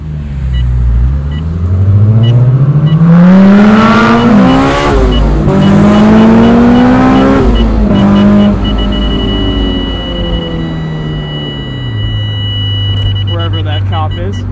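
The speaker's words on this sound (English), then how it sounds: "I've just been revving it out in second." A supercharged 2003 Honda S2000 engine revs hard in second gear, its pitch climbing steadily through long pulls with a brief lift between them, loud and close from inside the car.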